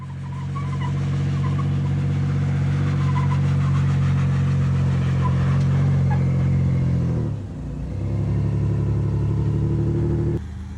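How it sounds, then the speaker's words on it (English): A truck's engine roars loud and steady as its tires spin on a steep off-road rock obstacle in Moab, Utah, with a brief dip in the revving before the engine surges again and then cuts off near the end. "And here I am spinning tires again."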